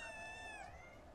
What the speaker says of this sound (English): that cat scared me